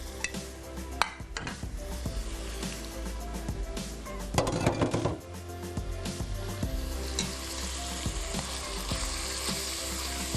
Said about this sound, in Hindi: अब चिकन को अदरक लहसुन और प्याज के साथ इतना पका लें